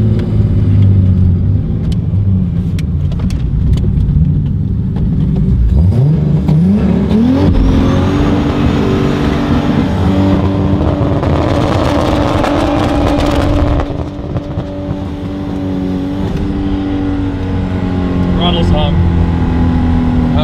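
A car drives with its engine revving and rising in pitch, a loud continuous rumble with climbing whine over the middle stretch while people talk inside the cabin.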